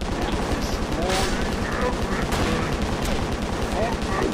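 A gunfire barrage in the video game Stranglehold makes a dense, rapid stream of shots that keeps going without a break under continuous game noise.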